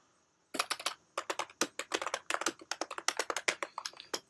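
Fast, close keystrokes on a computer keyboard rattle in a brisk, uneven burst after a short silence, dozens of clicks with no talking.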